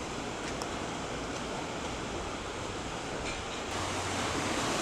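Tiber Creek in Ellicott City flows with a steady, even rush of water, a constant broadband wash at low level with no voices.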